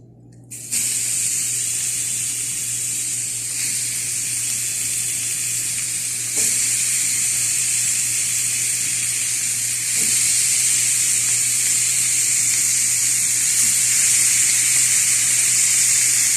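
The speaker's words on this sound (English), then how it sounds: "Now we're gonna add our meat to the skillet." Ground beef hits a hot skillet on high heat for Mexican-style tacos and erupts into a loud, steady hiss of sizzling that swells slightly at intervals and holds close and constant throughout.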